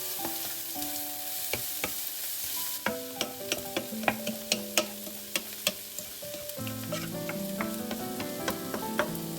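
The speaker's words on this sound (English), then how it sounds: "Add the minced garlic to the pan with the onions and parsley and cook for just about 30 seconds," Minced garlic, onions and parsley sizzle in a pan, with a spoon stirring and scraping in steady, repeated strokes; a close, continuous frying hiss runs throughout with no talking.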